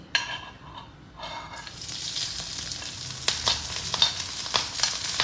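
Green chillies drop into hot sesame oil in a pan for a Kerala lemon pickle, setting off a steady, close sizzle of frying with sharper pops and crackles, after a brief quieter moment at the start.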